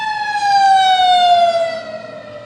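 A single loud emergency siren holds a steady, slowly falling wail, nearby and alone, then fades slightly at the end.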